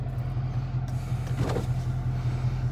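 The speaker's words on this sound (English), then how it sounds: "Windows down." Power windows on a 2012 Dodge Challenger SRT lower with a brief electric motor whir over the steady low hum of the idling engine inside the car.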